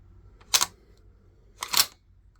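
Bolt action of a military surplus Type I rifle being worked, two sharp metallic clacks about a second apart, close and crisp against a quiet background.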